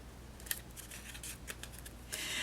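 Scissors trimming a piece of paper card for a papercraft page, a quick series of close crisp snips and slicing rasps, alone with no talk.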